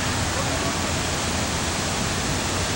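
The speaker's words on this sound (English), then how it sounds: "Here's a water fountain." A water fountain outside a Las Vegas hotel splashes in a steady, dense, broadband rush, loud and close, with no clear breaks.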